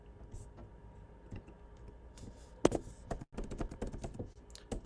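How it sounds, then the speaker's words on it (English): Quick, uneven clicks of typing on a computer keyboard, close and fairly quiet, with brief pauses and a faint voice in the background. "So I'm typing in right now"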